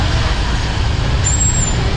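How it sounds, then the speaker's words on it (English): A motorcycle with a truck bed used for deliveries passes through an alley in Saigon, a close, steady engine rumble with hiss and a thin high whine near the end. "it's a motorcycle with a truck bed on the back used for deliveries."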